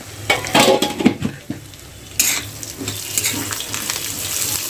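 Salt, cumin and coriander are stirred into green chilli thecha on a hot pan, with scraping, stirring bursts in the first couple of seconds, then a softer continuous sizzle. No speech.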